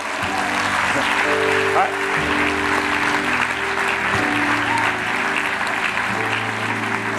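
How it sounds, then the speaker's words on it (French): A church congregation applauds throughout, a dense sustained wash of clapping that stays loud and continuous, with voices speaking and calling out over it. "oh, acclame"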